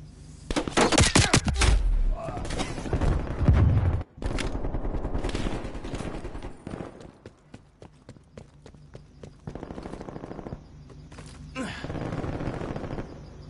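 Deathmatch gunfire in a PS4 shooter, with bursts of shots and hoof-like clattering that rise and fall across the stretch, loud and dense early on and briefly cut out before resuming at a lower level.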